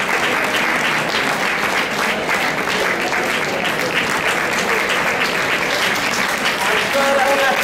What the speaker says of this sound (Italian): un calorosissimo applauso per i nostri musicisti